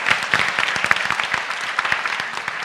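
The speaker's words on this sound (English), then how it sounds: "a big round of applause for Matt Wade and Sandra who make this possible here" Loud, close audience applause at an entrepreneurship competition, many hands clapping in a dense, crisp, steady stream with individual claps standing out, tapering slightly toward the end.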